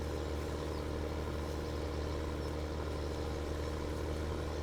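A Farming Simulator 17 tractor loaded with grain runs with a steady, droning engine hum. The low, even rumble holds at a constant level without any change in pitch or intensity.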